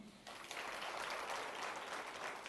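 Audience applause at a Telugu Bhagavatam discourse, breaking out suddenly after a brief quiet start and continuing as steady, dense clapping across the whole room.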